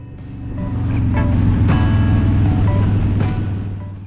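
A Harley-Davidson Dyna Fat Bob motorcycle riding through Karangahake Gorge, its low engine rumble swelling up, holding steady, then fading slightly at the end.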